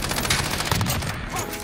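Rapid automatic fire from a RAM-7 rifle in Modern Warfare, a dense continuous burst of loud, close shots lasting under two seconds.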